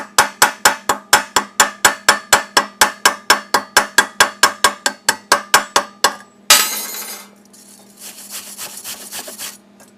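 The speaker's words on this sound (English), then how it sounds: "This flux, we're going to let it cool off a second, but it's a little harder to chip off." A hammer chips flux slag off a freshly laid weld in a quick, even run of about thirty sharp metallic taps, close and loud, followed by a short scraping brush-off and a light rasping sound.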